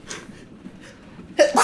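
A sharp, loud sneeze bursts out near the end after a brief quiet breath, close by.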